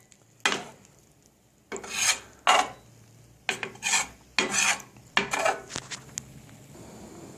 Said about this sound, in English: You want it like scrambled eggs. So you're just mixing it all up in here.